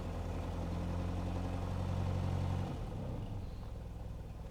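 A mechanical engine idling steadily during a workshop tinkering session, a low throbbing hum that drops and settles partway through, continuous and close with no talking.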